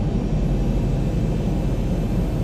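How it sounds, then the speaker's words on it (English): A Southwest airliner's engines drone loudly and steadily in X-Plane during a troubled approach to runway 36L at Orlando, a dense, continuous low roar without pauses. "Go up, you stupid plane!"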